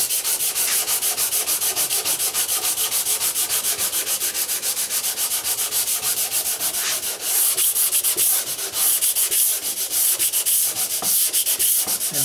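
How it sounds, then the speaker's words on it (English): Steady, continuous rasping strokes of a cabinet scraper drawn across wood near the bottom edge of a workpiece, loud and close with a rapid repeating rhythm and no talking. "when I was scraping right at the bottom here"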